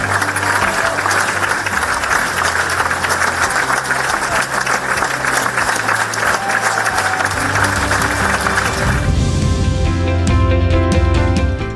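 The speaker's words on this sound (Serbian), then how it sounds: "Publika je na kraju glumačku ekipu nagradila višeminutnim aplauzom." A theatre audience applauds the cast at the end of a play: loud, sustained clapping from many hands that gives way near the end to a tonal, music-like sound.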